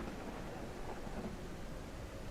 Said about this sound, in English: Flying through the storm.